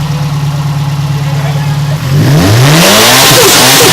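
A Subaru car at a student-run car show in San Diego, California, idles steadily, then revs hard halfway through with loud, rising and falling engine sweeps close by, while people talk in the background.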